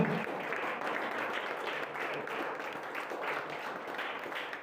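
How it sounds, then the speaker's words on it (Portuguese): A church congregation applauding during a Portuguese-language consecration service, a sustained, even wash of many hands clapping throughout at moderate loudness. "Dá uma salva de palmas a Jesus"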